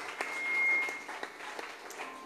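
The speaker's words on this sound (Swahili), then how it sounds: "So pigie Bwana makofi mazuri" Church congregation clapping for the Lord during a sermon, a fairly quiet, scattered burst of hand claps with a few sharper individual claps standing out.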